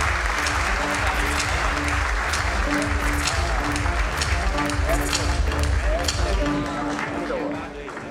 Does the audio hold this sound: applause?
yes